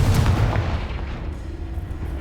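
Confringo fire spell blasts in the Hogwarts Legacy video game, a dense rumbling burst of booming explosions that starts loud and decays into a lingering roar.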